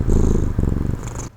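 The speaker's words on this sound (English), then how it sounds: "Listen to that purr." A cat purrs close by: a loud, rumbling purr with a steady rhythmic pulse that carries on without a break, then stops abruptly.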